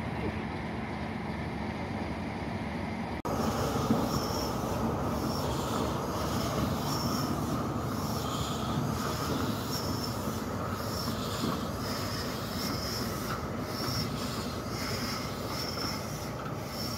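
A train rolls past on the Spa Valley Railway during a diesel gala, a steady rumbling roar with faint high squeals from the wheels, continuous and fairly close.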